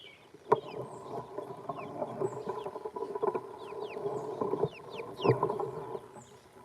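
Young bantam chicks outdoors peep and cluck in an overlapping chorus, high chirps scattered throughout with a couple of sharper louder calls, moderately close, with no talking.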